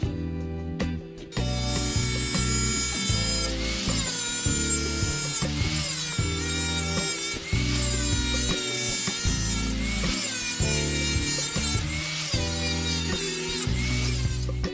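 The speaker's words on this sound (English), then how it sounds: "Now we're going to clean the paint up from around the edge so I can weld it." A power tool strips paint from a metal edge before welding, while making a one-inch gold classifier. Its loud whining motor runs nearly continuously, with the pitch and load shifting in repeated pulses as it bites into the edge.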